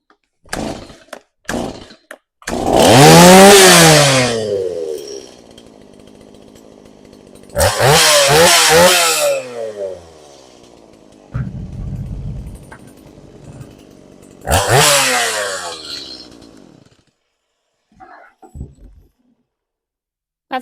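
Stihl MS170 chainsaw running after repair. The small two-stroke engine starts, then revs up in three loud bursts, idling unevenly between them before cutting off.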